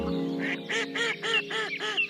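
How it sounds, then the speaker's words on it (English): A series of about six rhythmic duck quacks, loud and close, from a mother duck calling to newly hatched ducklings in a cartoon fairytale. "quacked the mother duck"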